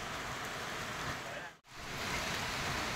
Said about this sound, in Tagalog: basa rin tayo ng ulan